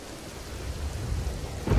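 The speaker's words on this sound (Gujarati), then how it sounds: "ધાનેરા સહિત ગ્રામીણ વિસ્તારમાં વરસાદ વરસ્યો." Rain pours steadily over a rural village area near Dhanera in Gujarat during the monsoon, a dense broadband hiss with low rumbling, building slightly louder toward the end.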